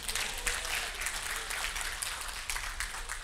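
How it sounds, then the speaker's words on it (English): Audience applause at a lecture on engineering learning, many people clapping steadily at a moderate distance for the whole stretch. "give yourself a round of applause"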